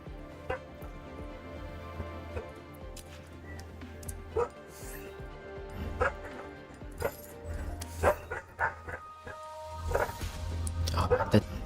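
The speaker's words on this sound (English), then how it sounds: "the dogs are barking really loudly" Several dogs bark and yip repeatedly in the background, loud sharp bursts at irregular intervals that grow busier toward the end, layered over a steady low hum and faint music.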